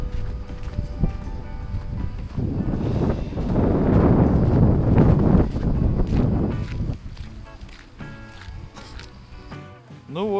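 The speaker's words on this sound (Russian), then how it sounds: "И ветер вьюга нас пинает." Strong winter wind buffets the microphone in a snowy blizzard, a loud, rough broadband roar that builds through the middle and then eases off.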